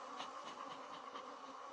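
Honeybees swarm around a hive super just lifted off the hive, a dense, continuous drone of many wings with a soft pulsing hum, faint and without talk.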